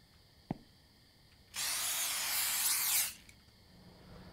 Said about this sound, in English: exterminating rats with fucking, like, a spray bottle with Mickey Mouse on it